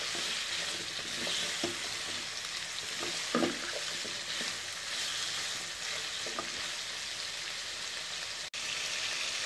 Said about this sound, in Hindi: फिर गाजर भी हमारी हो रही है फ्राई